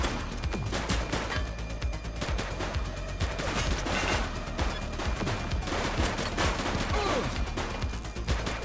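Sustained gunfire in The Precinct police video game, a dense stretch of rapid overlapping shots and bursts running steadily loud throughout, with brief voice fragments mixed under the shooting.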